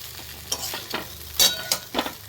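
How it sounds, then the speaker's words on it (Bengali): Flattened rice pulao with paneer being stirred and tossed in a frying pan, steady sizzling broken by several scraping spatula strokes and clinks, close and fairly loud, no talk. "তো এবার ভালো করে নেড়ে চেড়ে নেবে।"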